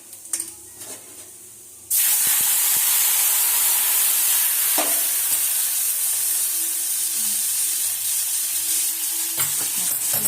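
Water hits hot oil with red chili powder in a pan for sambar, setting off a sudden loud, sustained sizzle and hiss after a quieter start, with stirring scrapes underneath.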